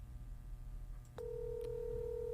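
A phone keypad gives one faint dialing beep that settles into a steady held tone over a low background hum.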